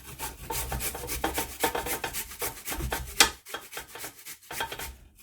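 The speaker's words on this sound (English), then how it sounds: "I grate mine because it's stronger when you grate it." Fresh ginger rasped against a grater in quick, rhythmic back-and-forth strokes, close and steady throughout, with no voices.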